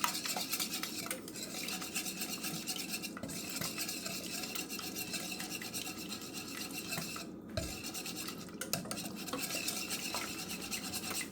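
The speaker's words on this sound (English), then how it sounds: "I'm going to grab my whisk and I'm going to start whisking this." Wire whisk beating apple cinnamon sheet cake batter in a mixing bowl, a steady, continuous scraping and clinking that runs throughout with a few brief pauses, close and moderately loud with no talking.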